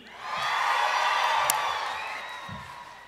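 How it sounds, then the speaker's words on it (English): A graduation crowd at an Indiana University dentistry ceremony roars in a sustained wave of cheering and whoops in a large hall, swelling and then slowly fading. "So every time I say class of 2014, I want you to cheer as loud as possible"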